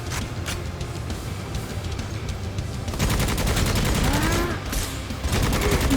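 Gunfire in Necromunda: Hired Gun, with continuous rapid automatic fire rattling close and loud, growing denser midway, with faint voices underneath.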